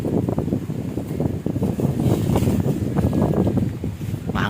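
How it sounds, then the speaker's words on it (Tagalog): Steady wind gusting across an open mountainside, a broad continuous rush with fluctuating intensity, loud and close to the microphone, no voices. "Mahangin."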